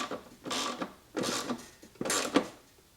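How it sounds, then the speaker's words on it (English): A 1/2-inch socket wrench tightening a battery cable on an EZGO RXV golf cart, three separate bursts of ratcheting clicks and creaks, close and moderately loud, with short pauses between. "we are going to take our 1/2-inch socket and just tighten it down."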